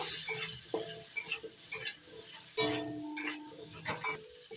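Pointed gourd (potol) pieces frying in hot oil, a steady close sizzle with a few louder stirring scrapes and clatters, no talking.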